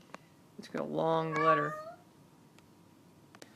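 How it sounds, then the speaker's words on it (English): A house cat lets out one drawn-out, wavering meow at close range, followed by quiet, with a few small clicks around it. "that was the cat"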